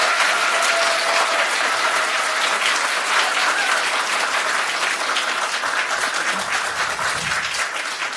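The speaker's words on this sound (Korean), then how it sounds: "수고해주신 두 분 후보자님들께 다시 한번 큰 박수를 부탁드립니다." A large audience gives sustained, loud applause for two candidates at a party floor leader election debate, a thick unbroken wash of clapping that fades slightly near the end.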